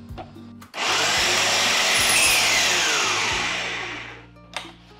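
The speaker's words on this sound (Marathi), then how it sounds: "आणि हेही मिक्सरमध्ये एकत्र करून घेऊयात।" Kitchen mixer grinding roasted dried fruits and nuts: a loud, steady whirring grind starts abruptly, runs for about three and a half seconds, then winds down and stops, with no speech.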